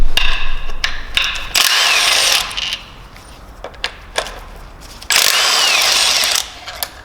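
A power tool undoes the pulley bolts on a BMW S54 engine in two loud, close bursts of high whirring, each about a second long, separated by clicks and metallic handling sounds.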